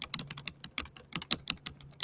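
Computer keyboard keys are pressed in a quick, uneven run of sharp clicks close to the microphone, about two dozen taps with no talking.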